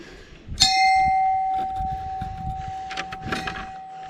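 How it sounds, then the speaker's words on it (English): A bell by a public footpath across a golf course is struck once, a sharp ring that sustains as a long, clear, fading tone, close and loud, while a faint voice and outdoor rustling carry on beneath it. "Please ring the bell to warn golfers of your presence on the public footpath."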